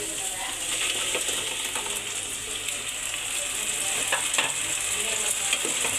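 Coriander paste cooking in oil in a pan, a dense continuous sizzle with rough scraping and stirring noises on top, close and fairly loud throughout.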